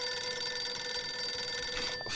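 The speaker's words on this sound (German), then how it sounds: "Wieso muss ich an Joeys Telefon gehen?" An old-style telephone rings steadily in the Mafia 2 Definitive Edition video game, a sustained metallic bell tone that cuts off near the end.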